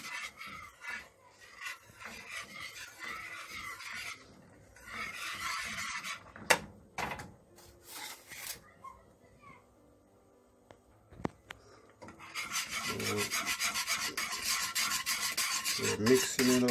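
A spoon scrapes and rasps around a pot of cornmeal porridge cooked with coconut milk, giving soft irregular stirring strokes with a couple of sharp clinks, then a steadier, louder scraping near the end.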